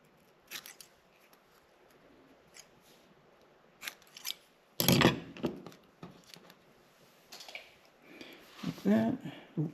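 Small wires for an auxiliary switch wiring harness on a 2019 vehicle are snipped with cutters, giving a few sharp, close clicks spaced irregularly among quiet handling and rustling noises.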